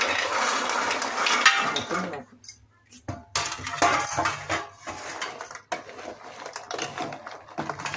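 Fried gavvalu are stirred into a pot of jaggery syrup, making scraping and clattering of a spoon against metal, loud at first, then a brief pause and more uneven stirring.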